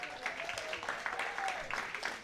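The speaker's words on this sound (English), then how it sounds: "Let's get a round of applause for Taylor." Scattered, fairly quiet applause greeting guest Taylor Bowen on a coaches talk show, uneven claps rising and falling over about two seconds.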